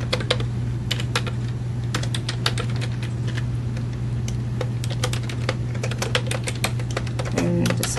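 Rapid, uneven keystrokes on a computer keyboard as a command is typed into a Team Foundation Server Power Tools console, close and clear over a steady low electrical hum, with no talking.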